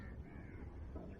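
Crows caw outdoors, a brief faint call or two rising from a noisy low background rumble.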